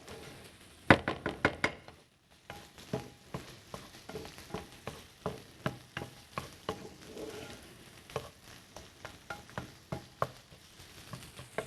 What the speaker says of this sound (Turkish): Biberimi de güzelce koteliyorum.